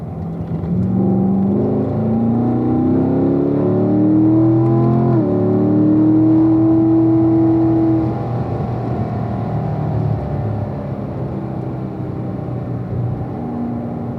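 Car accelerating hard on a race track during a driving school session, engine note rising through the gears in long climbing sweeps, then settling into a steady loud rumble from inside the car.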